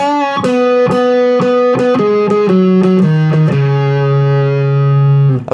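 Electric guitar playing the lead phrase of a song, a string of clear picked notes stepping downward before settling on a long sustained low note, loud and alone.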